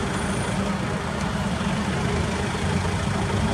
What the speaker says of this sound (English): Let's see some side shift action.